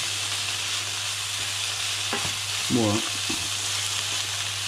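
Wild mushrooms fry in a pan with a steady background sizzle, broken midway by a short burst of louder spattering and clatter as they are stirred; a single brief word is spoken.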